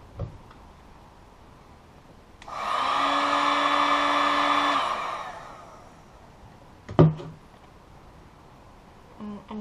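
A heat gun blows hot air onto a smartphone screen to soften its glue, a steady close whooshing roar running for about two seconds before fading, followed by a few faint clicks and taps.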